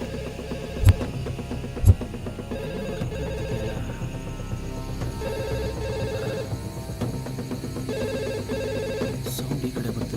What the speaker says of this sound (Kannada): ಇಲ್ಲೇ ಎಲ್ಲೋ ರಿಂಗ್ ಆಗ್ತಿದೆ.